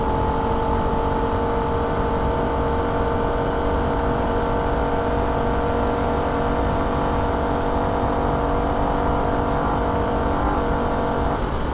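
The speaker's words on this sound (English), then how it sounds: "We sit the car very close to the rev limiter, upshift to fourth and hold it flat through this section." A Holden VF Ute races flat out around the Nürburgring, its engine holding a loud, steady, high-revving drone near the rev limiter with strong harmonic tones throughout and no talking.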